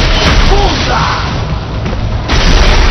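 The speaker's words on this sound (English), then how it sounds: "Firing RPG!" RPG fire and explosions in the action game Metal Gear Rising: Revengeance come as loud, dense booms and thuds that fill the whole stretch, with some voice audible in the mix.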